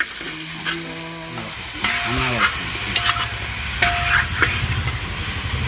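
Chicken frying in hot oil for a Mughlai chicken gravy gives a steady close sizzle, with metal scrapes and stirring clatter throughout and brief clinks from a utensil against the pan.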